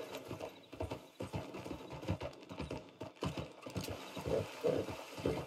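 In the Red Dead Redemption 2 video game, a horse's hooves clip-clop in a steady, rapid rhythm of moderate loudness, with a brief whinny-like sound near the end and no speech.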